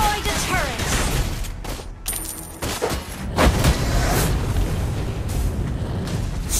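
A turret is destroyed during a Mobile Legends match, with dense bursts and booms of game combat effects running throughout, with a brief announcer voice.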